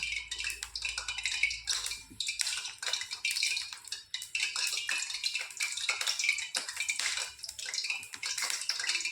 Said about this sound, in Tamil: அந்த சூடான எண்ணெய் எல்லா மாவுலேயும் படுற மாதிரி நல்லா கிளறி விடணும்